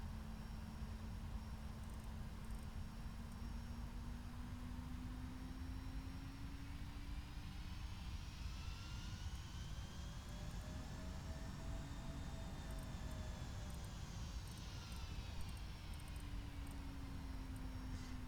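A light aircraft engine drones steadily in the X-Plane 11 flight simulator game, a constant low hum with slowly rising and falling tones, faint and unbroken.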